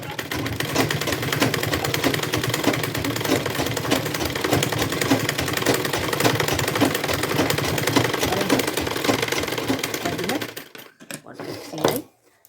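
Continuous rapid motor-driven stitching from a sewing machine sewing a cloth matka-style organizer bag at home, steady and close for about ten seconds before stopping abruptly, followed by a brief handling rustle.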